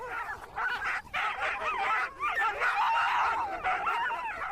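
A team of sled dogs in the polar Arctic keeps up a steady chorus of overlapping yips, whines and howl-like cries, loud and close, with no talking.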